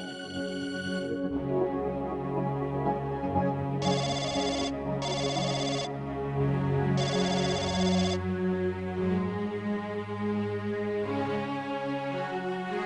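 A telephone call rings out as a repeating electronic melodic tone, steady and moderately loud, with no speech over it.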